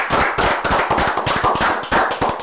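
A studio audience claps hands in a quick, loud burst of applause, dense rhythmic slaps repeating throughout with no talk over it.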